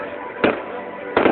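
Two fireworks pop at a festa de São Pedro bonfire celebration, a pair of sharp bursts about three quarters of a second apart over a low background murmur.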